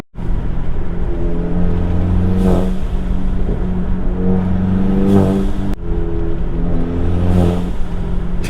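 A tuned Stage 2 MK7 Volkswagen engine drones loudly and steadily while driving through a snowstorm on wet roads, with the revs swelling and dropping several times under throttle.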